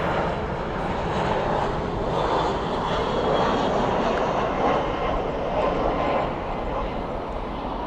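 An Iberia airliner arrives at Dallas/Fort Worth International Airport at night, a loud, steady jet roar holding evenly throughout.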